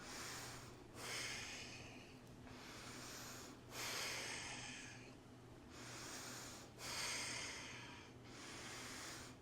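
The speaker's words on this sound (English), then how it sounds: "So I'm gonna try to smooth my breath out." Heavy, rhythmic breathing during a HIIT workout with an adjustable dumbbell, about seven steady breaths in and out at a slow even pace, close and fairly faint, with no talking.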